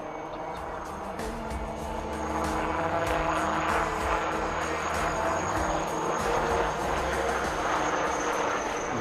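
An LUH helicopter flies at the Aero India air display, a steady rotor and engine drone that swells louder partway through with a faint rhythmic beat, heard at a distance over crowd and outdoor noise.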